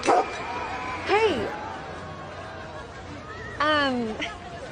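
A dog gives a few short yelps and whiny barks, first near the start, then around one second and again near the end, mixed with human voices and laughter.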